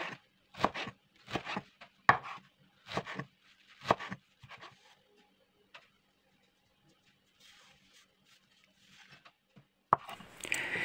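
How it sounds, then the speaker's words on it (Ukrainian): A knife chopping wild garlic leaves on a cutting board, a run of quick uneven thuds at first, then sparse quieter taps and a final burst of chops. "Черемшу нарізаю завдовжки 1 см."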